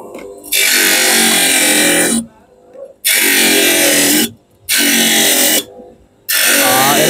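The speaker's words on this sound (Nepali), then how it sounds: "यहाँ यो कटर मेसिनमा हामी टक्क कटिङ गर्छौं।" An eyeglass lens cutter machine trims a lens to frame size in loud, harsh whirring bursts of about one to two seconds each, four runs separated by brief quiet gaps.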